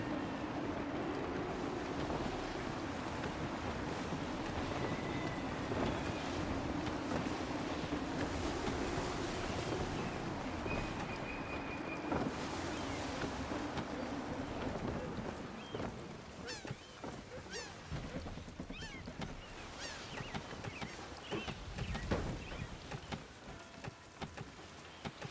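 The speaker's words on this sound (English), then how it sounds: "Gusty winds can be difficult to manage." Gusty wind and rushing sea surround a sailing ship in Assassin's Creed 3, a continuous airy roar with surf wash, growing choppier with splashes and creaks in the later part.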